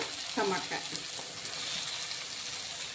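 Vegetables with capsicum frying in a pan for Mumbai-style pav bhaji, a soft steady sizzle with brief stirring scrapes near the start, close and moderately loud with no talking.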